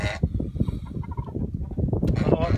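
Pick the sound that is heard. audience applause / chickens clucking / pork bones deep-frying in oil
chickens clucking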